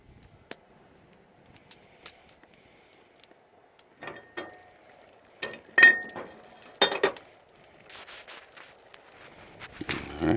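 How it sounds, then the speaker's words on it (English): A spoon clinks and scrapes against a camp pot as cheese is stirred into pasta shells outdoors, with scattered sharp metallic taps that grow busier and louder toward the end and no talking. "I'll stir it in, and we'll serve it."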